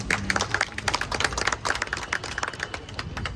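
An audience at a housing society meeting about an election claps together, a quick, busy patter of many hands that stays fairly soft and even across three seconds with no voices over it.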